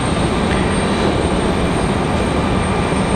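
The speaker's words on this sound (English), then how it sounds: "So here comes our A319 from Philadelphia." An Airbus A319 airliner arriving from Philadelphia at Raleigh-Durham airport, a steady loud broadband engine roar that holds evenly throughout with no voices.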